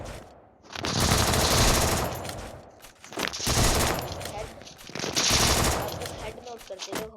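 Thompson submachine gun fire in a video game: three long, loud, sustained automatic bursts separated by short pauses, dense and close, with no voice over them.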